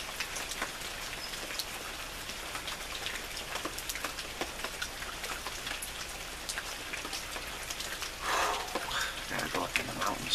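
Rain falls steadily in the mountains, a continuous fine patter of drops hitting surfaces, fairly quiet and even, with a slightly louder burst near the end.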